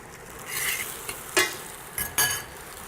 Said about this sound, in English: So cook it, whisking until it's almost but not completely set.